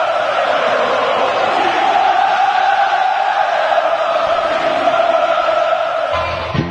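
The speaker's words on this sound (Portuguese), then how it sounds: "E fez a torcida se manifestar." Football crowd at a Palmeiras versus Corinthians match roaring and cheering loudly as a dense, continuous mass of voices that swells slightly and fades near the end.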